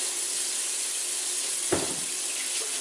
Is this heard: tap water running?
yes